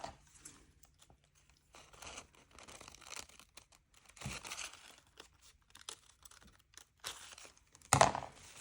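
Cutting material for a drapery fold tuck: close, quiet crinkling and snipping of paper or fabric in short scattered bursts with pauses, a sharper crunch near the end, and no talking.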